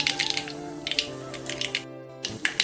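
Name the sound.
mustard seeds popping in hot oil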